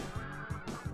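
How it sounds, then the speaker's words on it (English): In the Nintendo 64 racing game Cruis'n USA, geese-like birds overhead honk in a quick repeated rhythm, about four honks in one second over a steady engine-like drone, with no talk. "Had some birds overhead."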